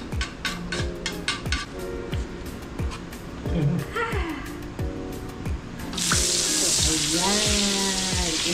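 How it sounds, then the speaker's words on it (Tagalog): Salted butter melts in a preheated pan with a steady, close sizzle and crackle, broken by regular sharp clinks and a louder hiss near the end; no one speaks. "I-melt na po natin siyempre yung butter"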